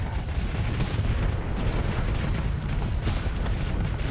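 Space mines detonate in the Starsector space combat game, a dense, continuous rumble of overlapping booms and bursts that keeps up loud and steady throughout with no pause.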